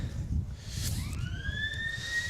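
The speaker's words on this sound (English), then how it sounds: "After the siren" A final siren sounds at an Australian rules football match between Redan and Lake Wendouree in Ballarat, a loud rising then sustained wail over steady crowd rumble, heard without talk.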